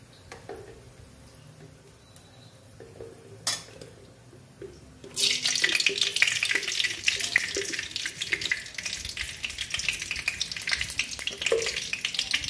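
Cow ghee (gawa ghee) melts in a pan for fried rice, quiet at first with a few faint clicks, then bursting into a loud, dense, steady sizzle from about five seconds on, close up and without talk.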